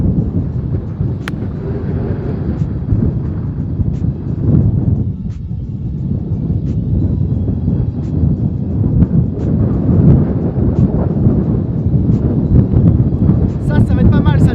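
Strong wind buffets the microphone on a links golf course at Wimereux, a loud, continuous roar and gusty low rumble, broken by a few sharp clicks.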